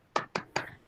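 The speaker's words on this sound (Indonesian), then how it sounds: "Nih, saya ajarin tepuk tangan dulu ya" Three sharp hand claps in an even quick rhythm, close and dry, done as a 'tepuk semangat' cheer clap.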